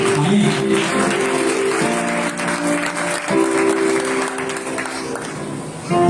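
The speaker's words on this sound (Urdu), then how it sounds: "ڈھیر ساری اور بھرپور تالیاں ہونی چاہیے آپ کے کلام کے لیے" Audience applause after a Father's Day sermon, a sustained broad wash of clapping that holds steady for several seconds with a faint tonal drone underneath.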